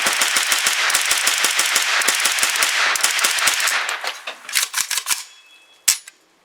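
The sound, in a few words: Kalashnikov-USA KR9 firing Federal aluminum ammo, bump fire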